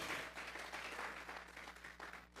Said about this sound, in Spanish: Regálele ofrenda de palmas a el Señor.